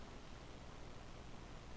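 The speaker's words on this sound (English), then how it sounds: "And then this is just white noise, I believe." Broadband white noise from a lo-fi hip-hop music track plays faint and steady, a flat even hiss with no rhythm or other sounds.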